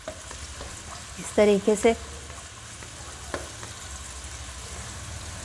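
Grated ingredient sautéing in hot oil over raised heat makes a soft steady sizzle with stirring, while a voice briefly speaks over it.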